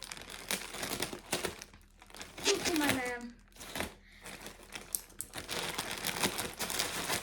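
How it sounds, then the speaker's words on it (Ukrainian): Plastic packaging crinkles and rustles in bursts at close range as parcel bags are opened, interleaved with a person speaking briefly. "Далі відкриваємо пакети"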